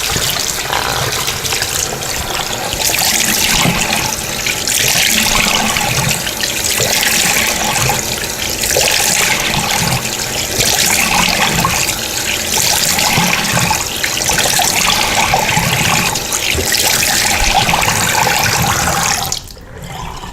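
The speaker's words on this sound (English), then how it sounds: "you want to go ahead and just rinse this right on off" Tap water runs steadily from a faucet into a sink while face cleanser is rinsed off, a continuous close splashing stream that cuts off abruptly near the end.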